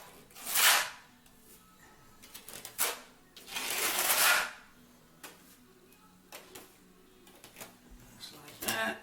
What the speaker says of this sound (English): I like to go ahead and take my trowel and get it in the corners like this